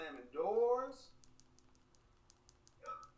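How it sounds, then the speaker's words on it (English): Rapid light computer keyboard and mouse clicks during a Pokemon Unite gaming session, faint and close, ticking in a short run beneath a voice talking. "Maybe I'm clicking too hard or something"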